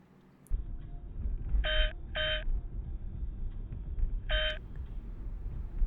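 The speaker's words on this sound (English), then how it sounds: "That noise is this camera's lane detection warning system." A cheap generic dashcam's lane detection warning beeps three times, two quick tones then a third after a pause, over steady road and cabin noise.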